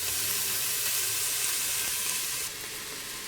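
Onions and garlic sizzle and fry in olive oil in a pan over high heat, a steady dense crackling hiss that runs throughout and eases slightly near the end, with no voices.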